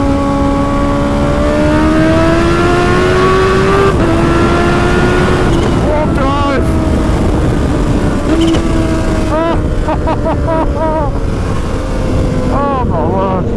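A tuned 250 hp Kawasaki H2 motorcycle screams at high revs on the road, the loud engine note rising through gear changes amid constant wind rush, with a rider talking intermittently over it.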